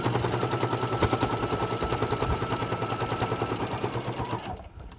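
A sewing machine stitches pennant banners with a rapid, steady mechanical chatter of needle strokes, close and continuous, then winds down to a stop near the end.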